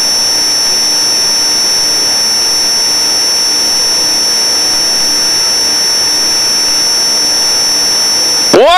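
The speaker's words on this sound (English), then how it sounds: "Flying that big turboprop" A Pilatus PC-12 turboprop engine runs as a loud, steady whine and roar with a high sustained tone, unbroken for the whole stretch, with a brief louder disturbance at the very end.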